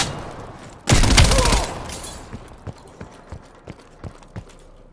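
Close shotgun blast in Call of Duty: Black Ops Cold War, a loud burst lasting about a second, then a run of sharp, quieter thuds and footsteps.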